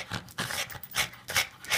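A puppy pants and whimpers in short bursts, several quick breathy puffs and soft whines close by, with a pause between each burst.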